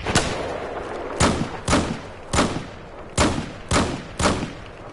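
Gunfire in the video game Battlefield 4: seven loud, sharp shots in an irregular sequence, each a broadband crack with a short tail, over a constant bed of battlefield ambience.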